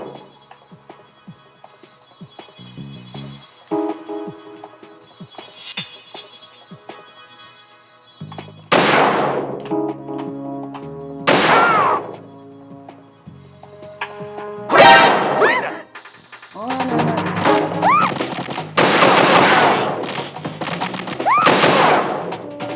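Support gunfire in Metal Gear Solid 2, game shots cracking in repeated loud bursts and volleys over a backdrop of music and game effects, growing denser toward the end.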